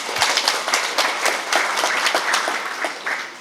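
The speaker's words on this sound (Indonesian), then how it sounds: "Tepuk tangan." An audience claps together at a Buddhist Dhamma talk, a dense, even patter of many hands that keeps going without a break and sounds fairly close.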